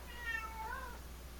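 A black cat gives a single short, faint meow with a rising then falling pitch in a quiet indoor room.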